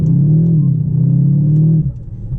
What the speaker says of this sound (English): Bit of turbo flutter at the front, pop and bang at the back.